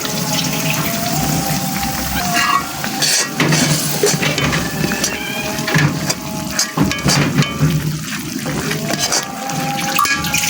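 Water poured into a pan of fried onions and garlic, with running water and clinking utensils and pans throughout, a busy kitchen wash of sound at close range.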